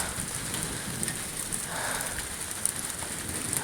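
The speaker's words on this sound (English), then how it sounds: "it's raining really hard now" Heavy rain pours down steadily during a thunderstorm in Michigan in April, a dense, close hiss with scattered sharper drops and no thunder standing out.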